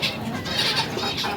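A hen clucks in a short burst of soft, throaty calls close by, with no talk over it.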